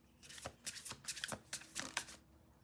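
Quiet riffling of a deck of cards, several quick bursts of flapping snaps in a row, close up with no voices.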